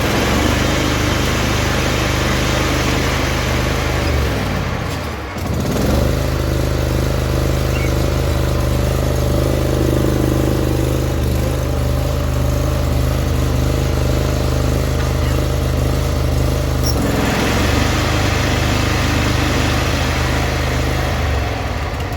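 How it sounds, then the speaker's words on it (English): A zero-turn lawn mower engine runs at a steady, loud idle, briefly dips and cuts out near the five-second mark, then catches again and keeps droning, with a shift in tone later as the load changes. "I can start the mower, then I'm going to turn on the blades, turn them back off"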